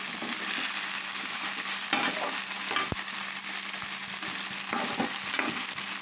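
Chopped onions frying in a pan for Andhra-style fish curry (chepala iguru), a steady close sizzle broken by repeated scraping stir strokes, with no talking.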